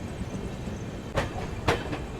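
The Garib Rath Express, an LHB-coach passenger train, rumbles steadily along the track near Tundla Junction, with two sharp clacks of wheels over rail joints standing out against the continuous loud roar.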